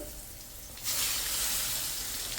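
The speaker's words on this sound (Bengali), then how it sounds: "তেল পুড়ে গেল মা তেল পুড়ে যেতেছে" Cooking oil burning and sizzling in a hot pan, a steady broadband hiss that jumps up loud and stays constant, with no talking.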